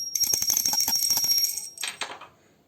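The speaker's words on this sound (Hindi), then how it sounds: "तो अब हम घंटी बजा कर करेंगे आरती" A hand bell rung during aarti worship at home clangs in rapid, bright repeated strokes, then slows to a few scattered rings and fades out, close and loud with no talking.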